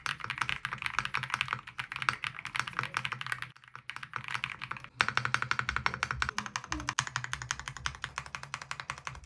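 Rapid, continuous keystrokes clatter on a stock Sugar65 mechanical keyboard, close up, with a brief pause partway through before the typing resumes.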